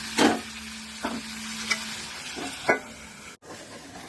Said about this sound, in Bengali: এবার আমি চিংড়ি মাছটা দিয়ে দেবো।